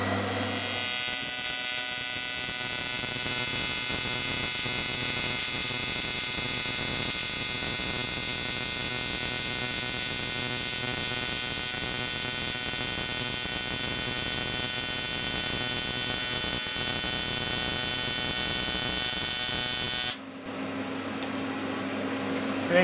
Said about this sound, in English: I'm going to run a straight bead down there.